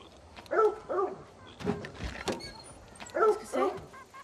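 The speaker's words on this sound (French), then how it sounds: "Ta gueule, le chien!" A dog barks several times, close and fairly loud, in short paired bursts amid a tense outdoor scene, with a few softer knocks and noises between the barks.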